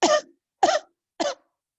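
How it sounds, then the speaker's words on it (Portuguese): Three deliberate, evenly spaced coughs, close and fairly soft, with short silences between them. "a gente vai inspirar e dar 3 tossidas"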